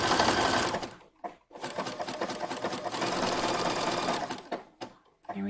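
A sewing machine runs in sustained bursts while stitching up a V neckline on a gala gown, with brief pauses as the fabric is turned, loud and close with no talking.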